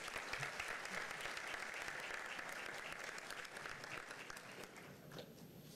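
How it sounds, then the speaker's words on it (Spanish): Sustained audience applause fills an evening opening ceremony for an education event in the Dominican Republic, a dense, steady wash of clapping from a large crowd that holds at a constant level before easing slightly at the end. "Lo recibimos con otro fuerte aplauso."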